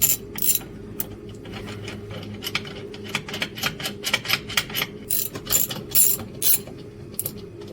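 A hand ratchet works on the brake master cylinder of a G-Body Cutlass, its pawl clicking in quick bursts of sharp ticks, loud and close, with brief pauses between strokes over a low hum.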